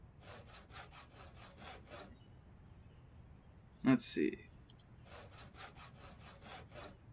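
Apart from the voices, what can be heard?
sawing logs in Project Zomboid video game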